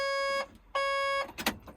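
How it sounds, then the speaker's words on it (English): Two steady electronic beeps from a vehicle's pilot buzzer at key-on, each about half a second, with a short gap between them, then a brief rustle. "the pilot buzzer, which when you key on you hear the beeping noise"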